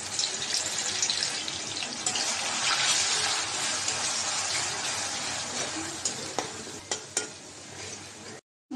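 Onion paste and garlic paste fry in hot oil for a curry with jackfruit seeds, taro stolons and dried fish, giving a loud, steady sizzling hiss with a few small clicks near the end and no talking.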